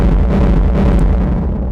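A techno kick drum crushed by heavy Camel Crusher distortion, reduced to a dense, loud, roaring wash of noise with a deep low rumble and no clear separate hits.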